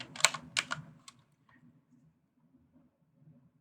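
Quick bursts of typing on a computer keyboard, a short flurry of clustered key clicks followed by a single tap, then near silence with a faint hum.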